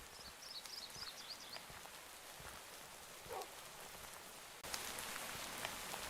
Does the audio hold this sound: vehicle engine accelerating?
no